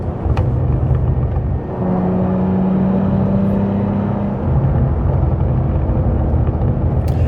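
A Cadillac CT4-V Blackwing engine rumbles loudly and steadily, its deep droning tone holding and then easing off as the revs drop from 3,000–4,000 RPM.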